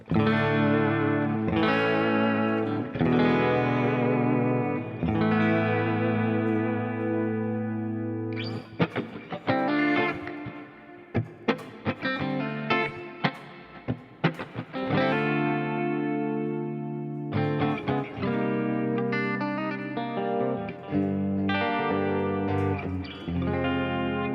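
An electric guitar on its humbucker pickups runs through a Quad Cortex effects unit, playing sustained distorted chords and quick choppy stabs with chorus and reverb, loud and alone.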